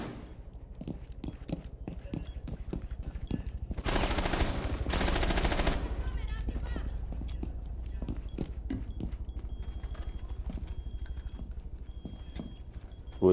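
Gunfire bursts in a video game, a dense rapid volley of shots lasting about two seconds near the middle, over a steady backdrop of in-game footsteps or hoofbeats.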